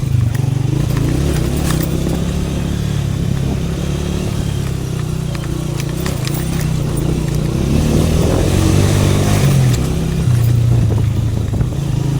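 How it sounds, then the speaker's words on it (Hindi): A Honda 125 motorcycle set up as a trail bike grinds through extreme off-road terrain near Tilla Jogian, its engine droning loud and close with rattling clatter and shifting revs, and no voices. "यहाँ पे मैं ज़रा एक्सट्रीम लेवल की ऑफ रोडिंग करूँ अपने होंडा 125 को ट्रेल बाइक बना के"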